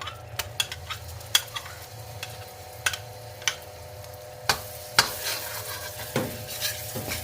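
Butter goes into a pan of potatoes frying into buttery crisps, with a soft continuous sizzle under repeated sharp scrapes and clinks of a spatula stirring against the pan.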